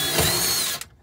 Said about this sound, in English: So now I can take this drill,